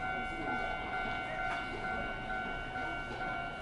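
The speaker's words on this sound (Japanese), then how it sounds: "まもなく3番線に列車が参ります。" A Sangi Railway 101 series train, formerly a Seibu 401 series, approaches a platform at Kintetsu-Tomida station. Steady rail rumble carries on throughout with sustained tonal whine, and a brief louder swell comes in the middle.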